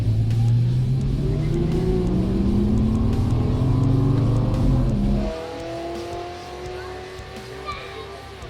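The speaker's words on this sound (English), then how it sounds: "this is the first time that I've drag raced, I guess, a cheap, fun car" A car revs hard and climbs steadily in pitch as it accelerates down a drag strip, loud and close, then drops off abruptly to a lower idle-like rumble.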